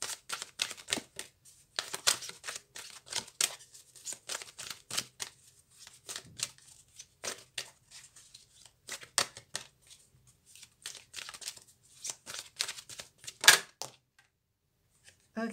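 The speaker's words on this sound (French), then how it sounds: "On va bien brasser." Tarot cards shuffled by hand up close, repeated quick riffling and flicking bursts in uneven rhythm, fairly soft, with a brief pause near the end.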